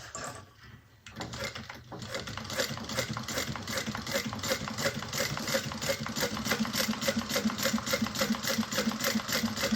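A sewing machine stitches binding on a Brunella bag, running close and steady with a rapid, even mechanical rhythm after a short pause at the start.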